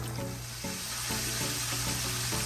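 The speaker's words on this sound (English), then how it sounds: "We're going to fry our chicken for about 10 to 12 minutes until they are nice and crispy." Chicken pieces frying in hot oil for homemade KFC-style fried chicken give a steady, close, loud sizzle and crackle with a constant low hum beneath, and nobody speaks.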